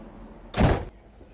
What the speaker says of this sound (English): Then rejoin the train and closing the door behind me